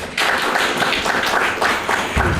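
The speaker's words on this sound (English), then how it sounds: "May I have a big round of applause?" A hall audience at an institute's welcome function breaks into steady, dense applause for the chief guest, loud and continuous throughout.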